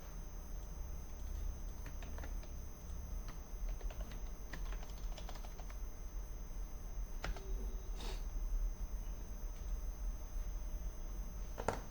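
Computer keyboard typing at a desk during an Illustrator poster design session, scattered key clicks and bursts across the whole stretch with a steady room hum, no talking.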